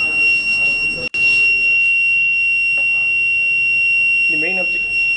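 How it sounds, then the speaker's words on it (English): An obstacle alarm on a railway track crack-detection robot sounds as a steady, loud, high continuous beep that runs almost the whole time, briefly cut once, while someone speaks over it. "Any obstacle, anyone trying to enter means the robot will be stopped, the alarm will be intimated."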